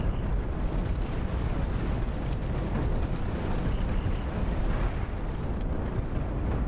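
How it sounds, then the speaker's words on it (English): Chain guns firing aboard a spaceship in the space combat game Cosmoteer, a dense, steady roar of rapid booming shots that runs unbroken and loud from start to finish. "Chain guns are now firing."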